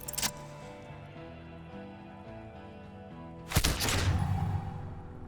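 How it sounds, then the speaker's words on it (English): A pistol shot goes off in Disco Elysium, a loud sharp blast with a rumbling tail that breaks over soft background music, with a fainter crack just before it. "A plume of smoke and fire erupts from the gun, and your hand goes numb from the explosion."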